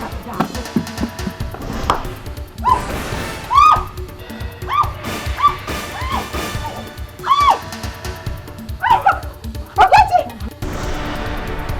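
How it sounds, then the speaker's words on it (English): An aggressive dog barks several times in sharp, spaced bursts, fairly close, over a busy background of thumps and knocks. "That mad dog is going to bite you."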